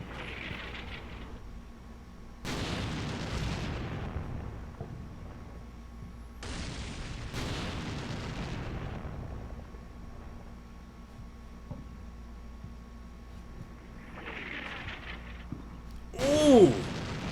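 Artillery shells burst near troops in the Combat Mission Black Sea war game, with a few separate heavy booms spaced seconds apart, each with a sharp crack and a rumbling tail, under faint background ambience.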